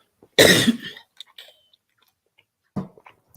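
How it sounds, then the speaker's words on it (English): A single loud, harsh cough up close, followed by a few small mouth and throat noises and a brief second rasp near the end. "This cough is doing something."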